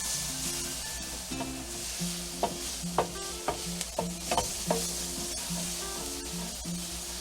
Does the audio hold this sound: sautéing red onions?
yes